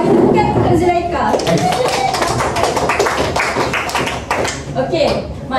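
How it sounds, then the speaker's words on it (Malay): Classroom applause for a student named Zulaikha, a burst of many hands clapping loudly and close, with some children's voices mixed in as it carries on and gradually tapers. "Bagi tepukan untuk Zulaikha."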